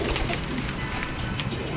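Pigeons from a pigeon keeper's flock coo softly against a constant background of broadband noise, with no talk.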